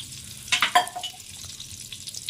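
Whole spices and kasuri methi hit hot butter and oil in a pan, a brief burst of crackling sizzle that settles into a soft, steady frying hiss, close up with no talk.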